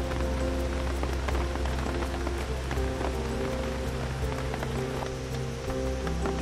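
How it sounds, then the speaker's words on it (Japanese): Heavy downpour at a campsite during a torrential rainstorm, a dense, continuous drumming and pattering of rain on surfaces close by, with faint steady tonal sounds beneath it. "雨めっちゃひどいですよ。"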